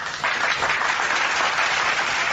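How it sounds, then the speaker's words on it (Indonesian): An audience bursts into steady, loud applause for a speaker, a dense wash of clapping that fills the whole moment. "tepuk tangan untuk Bang Suma."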